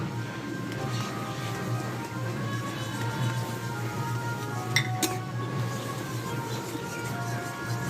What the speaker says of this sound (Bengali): ময়দাটা আমি অল্প অল্প করে দেবো আর এইভাবে নাড়তে থাকবো